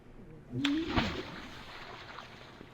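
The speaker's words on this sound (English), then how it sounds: "you hear those splashes, and then what sounds like some sort of muffled underwater" Water splashes once with a sharp slap inside a cavern, then sloshes and fades into a low murmur.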